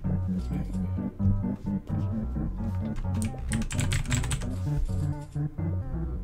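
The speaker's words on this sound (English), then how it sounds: "My keyboard's super loud." Loud, clicky computer keyboard typing in steady bursts, rattling over a constant game music backdrop with a player's voice now and then.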